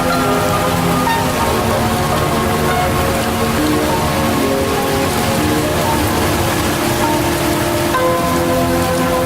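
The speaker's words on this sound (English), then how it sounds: "Undaunted by the sudden tropical downpour, the journey continues." Heavy tropical rain pours down in a sudden downpour in southern Vietnam's Mekong Delta region, a dense, loud and unbroken hiss of drops striking surfaces close by, with no voices.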